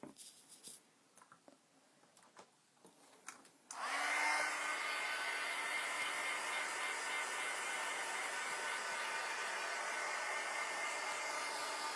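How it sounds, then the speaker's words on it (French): A hair dryer-style drying tool blows air over scrapbooking craft work, starting abruptly after a few seconds of quiet handling noises and then running as a loud, steady, close whoosh until the end. "Je vais fermer mon pot et on va sécher ça. Ça va faire du bruit, désolé."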